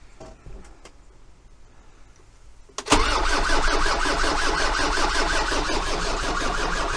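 A starter motor whirs at low level and then an engine catches abruptly and settles into a loud, steady running rumble.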